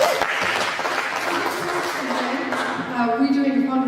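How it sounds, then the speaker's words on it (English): Audience applause at a charity information evening, a steady wash of clapping from a small crowd lasting several seconds while a voice speaks over it toward the end. "Can we give Claudine a round of applause?"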